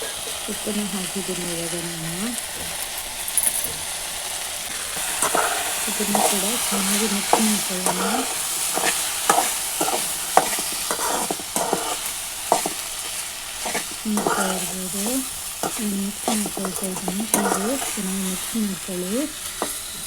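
Sliced okra fries in hot oil with salt for an okra gojju while a spatula stirs it, giving a steady sizzle and repeated scraping strokes that run under intermittent speech.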